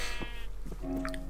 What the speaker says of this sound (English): colourful wool, colourful sheep.